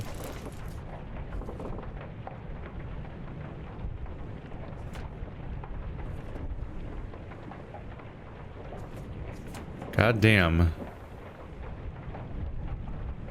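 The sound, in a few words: cannon crushing a steward in Return of the Obra Dinn video game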